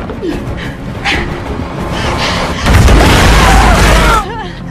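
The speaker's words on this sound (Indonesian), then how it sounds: "satu ledakan bom telah terjadi" A loud, rumbling bomb explosion erupts midway and sustains for over a second, amid shouting voices and a dog whimpering.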